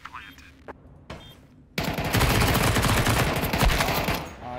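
Dense automatic and rapid gunfire rings out in a Counter-Strike esports match, starting after a couple of short sparse shots and then continuing loud and sustained for a few seconds.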